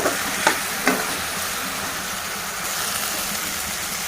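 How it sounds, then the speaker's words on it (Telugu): Okra with turmeric being stirred in a frying pan gives a continuous close sizzle, with a few light spoon taps against the pan early on. "ఇప్పుడు మనం బెండకాయలు పసుపు వేసాము కలుపుకోవాలి"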